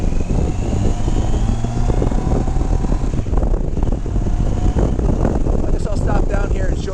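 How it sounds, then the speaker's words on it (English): A 1988 Kawasaki ZG1200B2 Voyager XII motorcycle engine idling nearby, a dense steady low rumble with mechanical whir, continuous and loud, with someone talking over it. "What a beautiful running bike."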